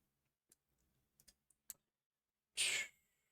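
Several sparse, crisp keystrokes on a gaming computer keyboard click in a quiet room, followed by a short breathy sigh.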